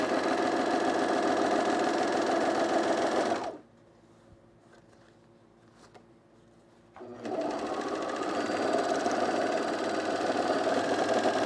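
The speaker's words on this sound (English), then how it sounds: "So I'm just going to overlock." An overlocker stitching seams on cargo pants runs in a loud, fast mechanical whir, stops for about four seconds of near silence, then starts again and keeps running.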